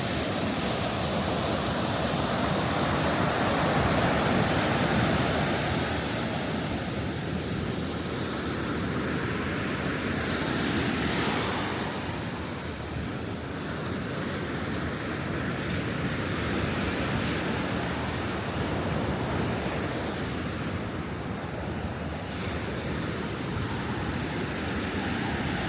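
Ocean surf rolls onto Ao Nang beach in Thailand, a steady loud wash of breaking waves that fills the whole stretch with continuous broadband roar and no voices.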